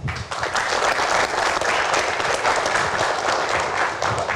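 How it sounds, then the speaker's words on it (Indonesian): Steady, dense applause from a stage audience fills the whole stretch, many hands clapping at once with no break. "boleh tepuk tangannya"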